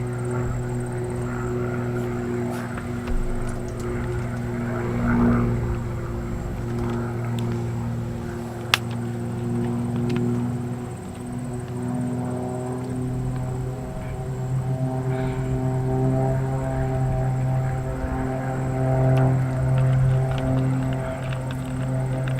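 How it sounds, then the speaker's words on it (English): Steady propeller drone of a Pitts Special aerobatic biplane flying overhead, a sustained engine hum at moderate distance that swells gently and holds for the whole stretch, with no speech. "It sounds like a Pitts."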